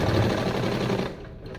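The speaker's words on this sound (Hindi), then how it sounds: "इस पर टॉप सिलाई हम पूरे में लगा देंगे" Sewing machine top-stitching a belt onto a salwar, a dense steady mechanical rattle that runs loud for about a second, then eases and fades, with no talk.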